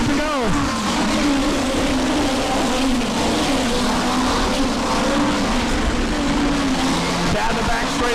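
Race cars roar past on the final lap of a feature race at Lucas Oil Speedway, a steady loud engine drone with a passing whine near the start and end, an announcer talking over it.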